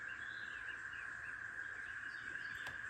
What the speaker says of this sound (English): Now I got cicadas chirping like crazy.